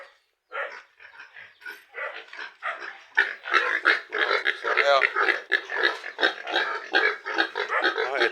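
Pet pigs on a small backyard mini farm grunt and squeal in a busy, continuous stream of close animal noise, with someone talking over them throughout.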